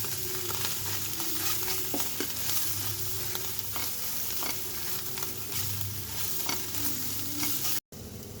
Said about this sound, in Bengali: ডিমটা আমি ভেজে এটার সাথে একসঙ্গে মিলিয়ে নেব।